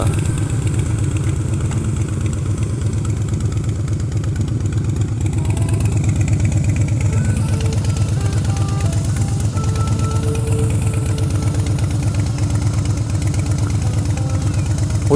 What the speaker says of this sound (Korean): 오토바이 소리가 너무 커서